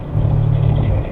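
Hyundai Veloster N with 8-speed dual-clutch gearbox, front-wheel drive, cornering on a race track: a steady loud engine drone with a low hum, heard briefly and alone.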